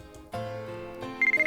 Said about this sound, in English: My cell phone's been ringing for a while.